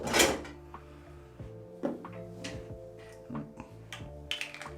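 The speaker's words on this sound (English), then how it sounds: "Then all my products go back in the drawers." Shaving products are set back into drawers, giving a series of short wooden knocks, clicks and drawer slides spaced over a few seconds, close by with no talking.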